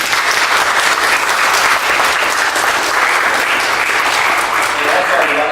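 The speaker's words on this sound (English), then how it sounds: "But let's give them another round of applause." Loud, dense applause from a faculty showcase audience, a continuous wash of many hands clapping close by, holding steady for several seconds.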